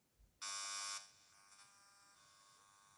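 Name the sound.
RF meter audio of a cordless telephone's radiation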